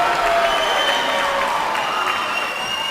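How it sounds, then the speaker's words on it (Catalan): A crowd in a sports hall applauds a visiting school dance group at a dance gathering, with loud sustained clapping and crowd noise mixed with background music. "Un aplaudiment pels de l'Institut de Lloret."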